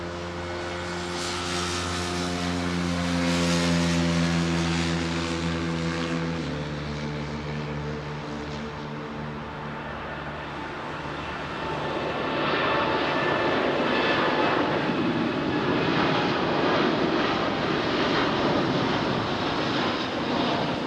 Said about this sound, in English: 737 landing next